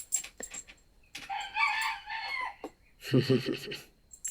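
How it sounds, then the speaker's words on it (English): A rooster crows nearby among a mixed backyard flock of chickens, a drawn-out cock-a-doodle-doo followed by a second crowing burst, with clucks and a few human sounds between. "There's my rooster agreeing."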